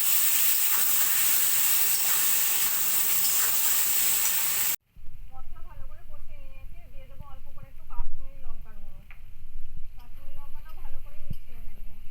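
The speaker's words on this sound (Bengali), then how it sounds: "জিরের গুঁড়ো আর দু চামচ মতো গ্রেট করে নেওয়া আদা সব কিছু মিশিয়ে ভালো করে মশলাটা কষিয়ে নেবো" Masala of green chili, cumin powder and grated ginger frying in a pan, a steady loud sizzle at first, then quieter crackling and stirring scrapes with a voice talking over it.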